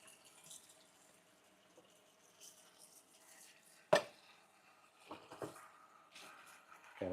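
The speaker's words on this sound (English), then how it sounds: "So I gotta wash my dishes by hand." Dishes are washed by hand in a home kitchen sink with a broken dishwasher, with quiet running water broken by a few sharp clinks and clatters of dishes.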